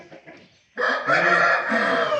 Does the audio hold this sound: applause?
no